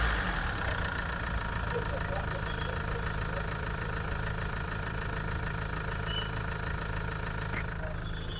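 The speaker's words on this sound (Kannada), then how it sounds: "ಇಂಜಿನ್ ಸ್ಟಾರ್ಟ್ನೂ ಕೂಡ ಆಗಿದೆ, ಎಷ್ಟು ಸ್ಮೂತ್ ಆಗಿದೆ ನೋಡ್ಬೋದು ಇಂಜಿನ್ನು" A 2013 Mahindra XUV500 W8 diesel engine idles with a steady, even low hum and faint tapping, continuous and close throughout.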